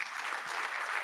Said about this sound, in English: The clap is not strong and exciting at all.